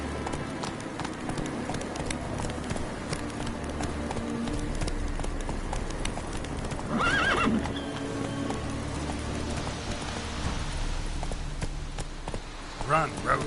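Hooves of a horse galloping in The Witcher 3 drum steadily under game music and ambience, with a brief whinny partway through and a voice speaking over it.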